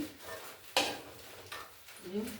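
Fried lentil bori lifted out of a pan in a village kitchen: a single sharp metal clink from the utensil, then light scraping and a faint oily sizzle, with a brief low voice near the end.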